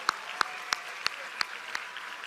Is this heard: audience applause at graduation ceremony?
yes